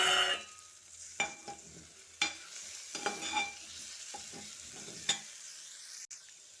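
Boiled meal maker soya chunks frying in a pan, a quiet crackling sizzle punctuated by several sharp spoon knocks and scraping stirs, then fading toward the end.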